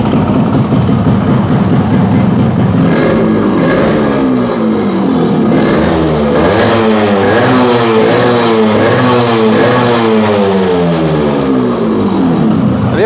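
A restored Yamaha RXZ two-stroke motorcycle, converted from a 4-speed to a 5-speed gearbox, revs loudly and steadily up close, its engine note rising and falling in repeated throttle blips for the whole stretch, with no talking.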